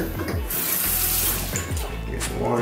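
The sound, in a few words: water running from tap to wet toothbrush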